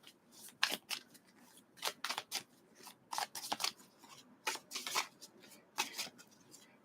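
Tarot cards being drawn and handled during a reading make a string of crisp, close snapping and sliding rustles in irregular bursts against near silence.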